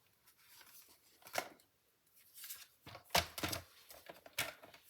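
Paper is cut for a handmade three-panel card, giving a few crisp, close scraping bursts separated by quiet gaps.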